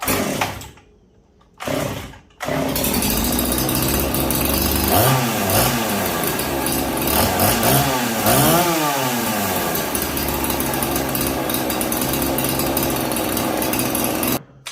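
Poulan Pro 335 chainsaw being troubleshot, pulled over a couple of times with short bursts, then starting and running loudly and continuously, its engine revving up and down in repeated sweeps before shutting off.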